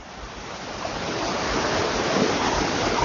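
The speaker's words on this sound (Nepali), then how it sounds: "अत्यन्त गतिलो गरी खोला यसरी आइरहेको छ।" The fast-flowing Khardu river, swollen after rain, gives a steady broadband rush of water, loud and continuous with no breaks, with no voices over it.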